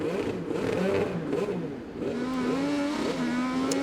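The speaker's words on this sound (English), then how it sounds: "Car still running." An IndyCar race car idling on pit road at the 2018 St. Petersburg Grand Prix, a steady wavering engine drone with faint crowd and broadcast background.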